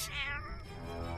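A single loud, rising-then-falling cat meow, close and strained almost to a caterwaul, then a quiet tail with a low background hum.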